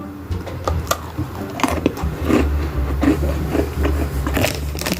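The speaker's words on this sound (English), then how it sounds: "I did not expect it to be that crunchy." Crunchy dollar-store Christmas snack bitten and chewed close up, a few sharp crunching bites and crackles over several seconds with no talking.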